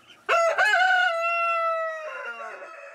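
A small black rooster crows once, loud and close, a bright harmonic call that rises, holds and then trails off into a rougher, fading end with no other sounds.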